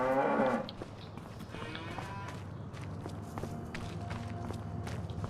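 A cow moos loudly and close at a farm barn in the video game Farming Simulator 25, then fainter lowing and shuffling footsteps continue over a steady background hum.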